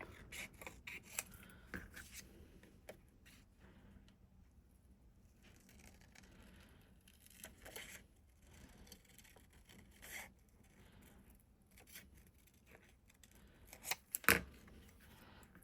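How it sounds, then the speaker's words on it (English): Quiet snipping and rustling of vellum paper being cut with scissors, soft intermittent sounds with a sharper snip near the end. "I'm going to take my scissors"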